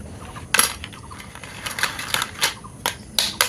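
Crisp sun-dried homemade papad crackles close by in a series of sharp, brittle snaps, some single and some in quick clusters.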